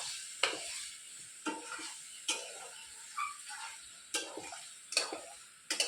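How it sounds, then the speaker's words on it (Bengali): Ghugni being stirred in a cooking pan, with a spoon scraping and clacking against the metal in regular strokes about once a second over a soft sizzle, close up and without speech. "এবার চলো আমি ভালো করে একটু নাড়াচাড়া দিয়ে নিই।"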